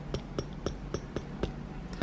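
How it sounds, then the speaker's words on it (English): A metal aftermarket BMW hood latch handle clinks repeatedly, about eight sharp, bright taps in an irregular rhythm, close and fairly quiet against a low background hum. "the metal makes that clinking noise"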